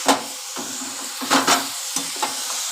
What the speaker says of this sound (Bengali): আলু পটলটা দিয়ে ভালো করে মশলার সাথে মাখিয়ে নেব পনিরটাও দিয়ে দেবো